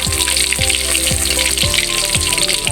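Fish fries in a pan of hot oil, a loud, steady sizzle, with several rhythmic scraping strokes of a utensil against the pan cutting through it at regular intervals.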